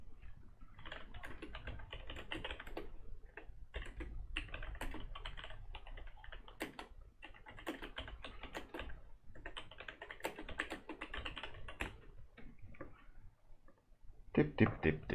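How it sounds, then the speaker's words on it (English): Rapid typing on a computer keyboard, close and crisp, with dense bursts of key clicks broken by short pauses and a few louder taps at the end. "Keyboard noises."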